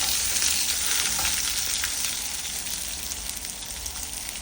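Curry leaves and green chillies frying in hot oil for beans thoran, a loud steady sizzle with bright crackle that eases slightly toward the end, no voices.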